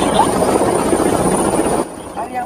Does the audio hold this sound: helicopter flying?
yes